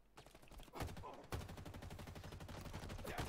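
Assault rifle fire in Halo Infinite, with sustained rapid bursts of steady automatic shots running nearly unbroken, loud and close, and heavier onsets near the start and midway.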